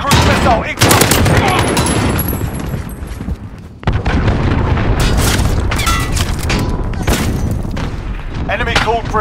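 An enemy cruise missile strike lands in Call of Duty Modern Warfare, loud booming blasts and rolling detonations mixed with rapid gunfire, dense and close throughout, with a brief drop in the middle and voices cutting in over the chaos.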